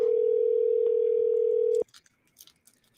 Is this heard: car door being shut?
no